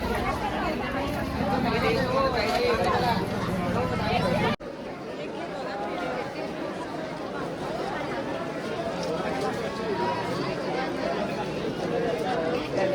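A dense crowd murmurs at the Akkalkot Swami Samarth samadhi math, a continuous babble of many voices close by, with an abrupt cut partway through to a thinner, more distant hubbub.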